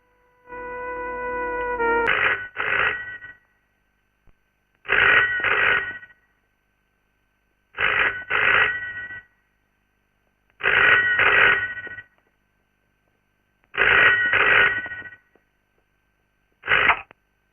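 An old-style telephone bell rings in a film scene, six bursts of a loud double ring separated by roughly two-second silences, close and clear with no voices over it.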